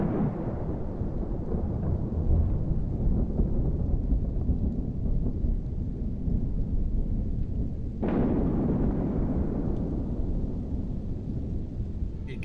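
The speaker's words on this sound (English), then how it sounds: "See the lightning off over there in the distance?" Rumbling thunder from distant lightning in Kerbal Space Program rolls on as a continuous low roar, with a sharper crack about two-thirds through that swells and then fades back into the steady rumble.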